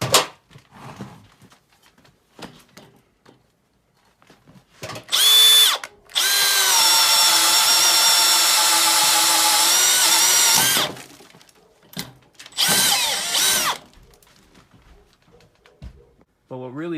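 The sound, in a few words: brushless drill running on speed 1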